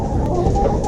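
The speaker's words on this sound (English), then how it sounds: "2 roosters are fighting" Two roosters fighting, a brief burst of clucking and agitated fowl calls close by, lasting under a second.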